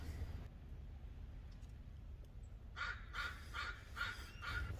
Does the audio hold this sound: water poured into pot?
no